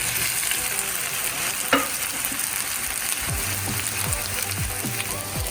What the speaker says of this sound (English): Now the onions have turned a little translucent, we're going to add our potatoes.